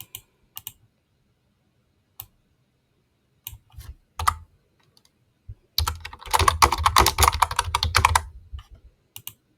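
Fingers type code on a computer keyboard, starting with scattered single key clicks, then a dense, fast burst of close tapping before trailing off into a few last strokes, with no voices.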